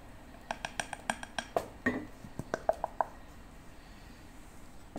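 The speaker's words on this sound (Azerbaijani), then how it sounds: "Unu əlavə etdim və yaxşıca qarışdırıram" Spoon or whisk clinking against a pot while flour is stirred into melted butter and water for eclair choux dough, a run of sharp metallic taps then scattered knocks, close and moderately loud, with no talking.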